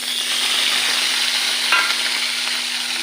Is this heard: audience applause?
no